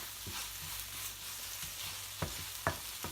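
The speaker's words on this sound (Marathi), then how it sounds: "सारखं ढवळत राहायचंय" Paneer bhurji with tomato stirred in a frying pan, a steady soft sizzle under intermittent spoon scrapes, with two sharper knocks near the end; no talking.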